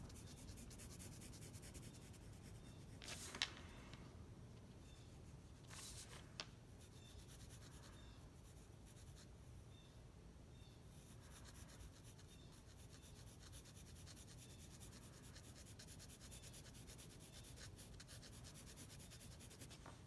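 A hard graphite pencil rubs softly over a monoprint with a faint, continuous scratchy sound, plus a couple of brief sharp ticks of the pencil against the paper.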